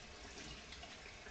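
Rice is rinsed under running tap water while making maki. The stream gives a soft, steady, continuous rush of water, faint and unbroken, with no voices.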